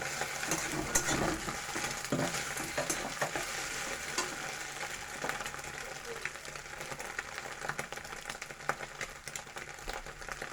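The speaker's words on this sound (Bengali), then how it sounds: "ডিমটা কুচি কুচি করে ভেজে নেব।" Scrambled egg for chow mein sizzles loudly in a hot pan, and steady spatula scraping and stirring continue throughout.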